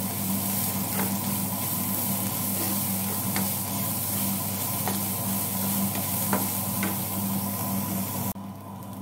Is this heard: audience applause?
no